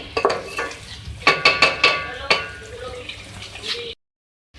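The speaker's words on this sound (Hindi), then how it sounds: "इसके साथ में हरी मिर्ची ऐड कर रही हूँ चॉप 2 से 3 अदद। उसको और भूनेंगे।" Chopped green chilies frying with chicken in a pan for balti gosht, with a run of sharp spoon-and-pan clatters and stirring scrapes over a low sizzle, close and fairly loud, ending in silence.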